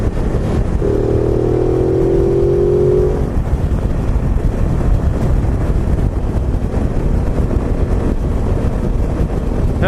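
Ducati Multistrada 950 motorcycle being ridden, engine droning under heavy wind rush, with a rising rev tone early on before it blends into steady road and wind roar.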